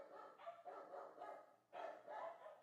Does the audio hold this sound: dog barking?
yes